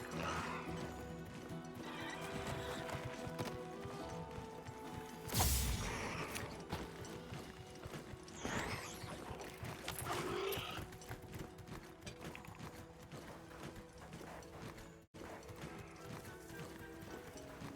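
Horse bird mount in the Monster Hunter Wilds beta giving whinny-like calls over steady clip-clopping footsteps, with a loud burst near the middle and a sustained tonal game backdrop throughout, no talking.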